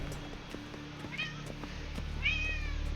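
A house cat meows twice for its food, each call rising and falling, moderately close over a low steady background hum from a game stream.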